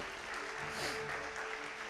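Applause from a studio audience at a televised panel discussion on Indian cinema and politics, a steady wash of clapping through the whole moment with faint murmuring and tonal background hum beneath.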